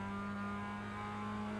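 Mazda MX-5 race car in iRacing accelerating at Oran Park South, a steady loud engine drone held at a constant pitch throughout, with no voices.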